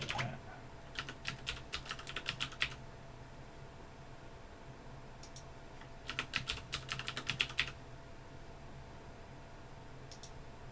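A password being typed on a computer keyboard while setting up a System76 Thelio desktop running Pop OS, quick bursts of crisp key clicks separated by quiet pauses, close and clear with a faint background hiss.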